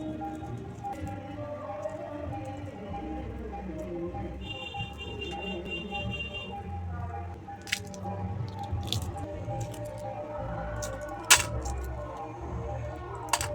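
Boiled eggs and boiled potato chunks are peeled by hand in a kitchen, giving soft, close squishing and light tapping and clicking sounds, with a few sharper clicks scattered throughout.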